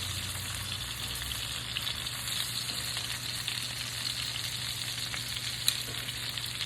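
Pork chops frying in a pan over medium heat give a continuous, even sizzle with soft crackles. A low steady hum runs underneath, and no one talks.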